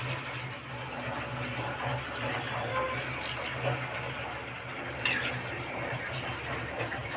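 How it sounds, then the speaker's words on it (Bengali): Water is poured into a cooking pot of cauliflower curry on top of the added spices, making a continuous rushing, splashing pour at moderate loudness with a brief clink midway. "দেখতে পাচ্ছেন আমি এখানে পরিমাণ মতো পানি অ্যাড করে দিচ্ছি।"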